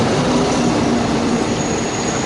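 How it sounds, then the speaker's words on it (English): Nam Tok line train approaching Hellfire Pass in Thailand, a steady loud rumble of rolling stock close by with a faint wheel squeal, no voices over it. "that's the Nam Tok train coming, which is going to go over the Hellfire Pass"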